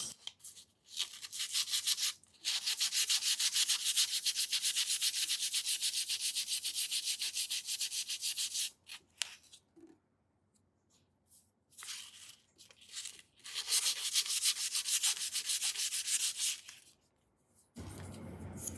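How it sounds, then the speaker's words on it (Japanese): Sandpaper rubs back and forth over steel tweezers in long, steady scraping strokes, loud and close, broken by a few short pauses, with a brief quiet stretch partway through and an abrupt stop near the end. "ちょっと全面が研げないので紙やすりを併用します。"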